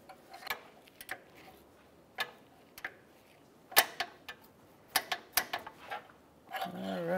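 Torque wrench tightening the downstream O2 sensor on a Hyundai Elantra, a sequence of faint, sharp ratcheting ticks and clicks at irregular intervals in a quiet space, ending with a slightly louder click.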